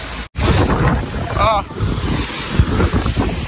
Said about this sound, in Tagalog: At malakas yung hangin, tingnan nyo yung payong, oh.